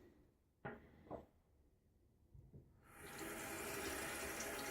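A few soft knocks, then tap water begins running steadily into a small six-sided shaving brush soaking cup, a loud continuous hiss that fills the second half.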